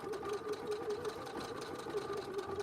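A sewing machine running a triple stitch, stitching forward and back for a zipper purse, with a quiet, steady mechanical whir and light rhythmic ticking throughout.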